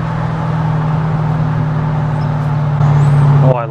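A 2022 Dodge Challenger with the Shaker package drives along with a steady low engine and exhaust drone heard from inside the car, swelling briefly louder near the end before cutting off.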